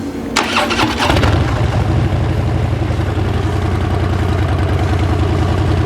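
A motorcycle engine starting and then running steadily at idle, heard from beside the bike rather than in the saddle, loud and close with an even low throbbing rumble after a brief cranking burst.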